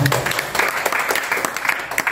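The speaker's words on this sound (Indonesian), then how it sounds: "Tepuk tangan sekali lagi untuk semua." Brief applause from community members at an Eid al-Adha gathering in a Depok neighbourhood, a short burst of clapping with voices mixed in.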